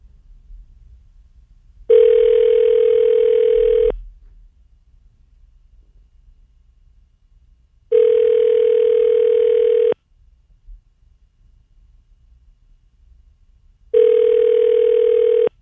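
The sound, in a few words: telephone ringing tone while calling someone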